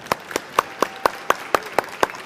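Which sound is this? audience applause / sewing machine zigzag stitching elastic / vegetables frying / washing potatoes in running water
audience applause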